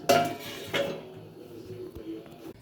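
Lid placed over a pan of kheer patishapta, two sharp close metallic clanks of the lid meeting the pan, then a quieter rattle and faint kitchen clatter, with no talking.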